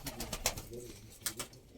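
Soft pigeon cooing repeats in low, throaty bursts, fairly close and quiet, with faint rustling around the calls.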